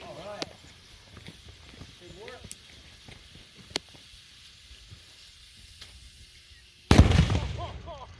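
Faint chatter and small clicks fill the air before a small cannon fires with a sudden loud boom near the end, followed by a roaring, crackling wash of noise.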